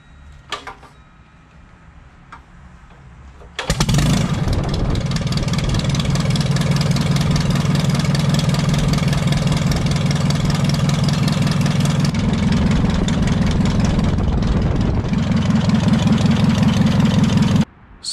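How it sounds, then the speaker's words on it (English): An airboat engine with freshly painted headers cranks briefly, then catches and settles into a loud, steady rumbling idle that runs for over ten seconds before cutting off abruptly. "I'm gonna start the engine up so the paint on the headers and"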